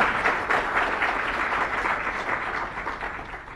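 Audience applause at the Kodai Vidumurai film launch, a steady wash of many hands clapping that holds at an even level throughout, with no talk over it.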